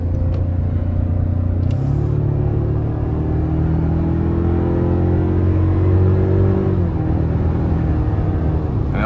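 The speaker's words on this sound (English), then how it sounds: "I like the iForce Max hybrid engine" A 2024 Toyota Tacoma Limited with the i-Force Max hybrid engine accelerates hard to pass a truck, a loud steady cabin rumble rising in pitch over several seconds before easing off, no talking.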